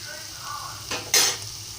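Onions fry in a pan for a thotakura (amaranth) curry with a low, soft sizzle, then a brief stir and a sharper burst of hiss near the end, close and fairly quiet.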